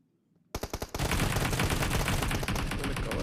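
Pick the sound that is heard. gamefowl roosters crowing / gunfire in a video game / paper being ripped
gunfire in a video game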